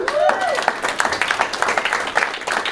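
A comedy club audience breaks into dense, close applause, with a brief voice at the start before the steady clapping fills the rest.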